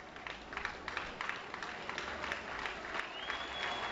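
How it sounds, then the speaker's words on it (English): A baseball stadium crowd during a Pirates game swells into applause and cheering on a two-out, two-strike pitch that ends in a called strikeout, a broad, distant roar building steadily over four seconds. "Crowd comes to life on this 2-2 two-out pitch"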